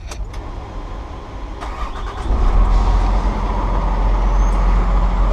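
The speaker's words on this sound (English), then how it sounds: "we're going to proceed to start the truck" A semi truck's diesel engine cranks and catches after some faint clicks and clatter, then settles into a loud, steady low idle rumble.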